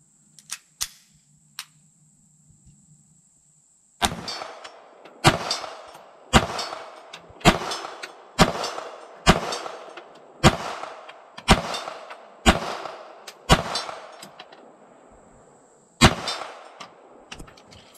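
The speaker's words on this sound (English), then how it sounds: "We'll take some shots with the Beretta 81." Beretta 81 pistol fired outdoors at a target about 35 yards away, a few quick early shots then a steady run of about a dozen sharp cracks, each with a short ringing tail, close and loud.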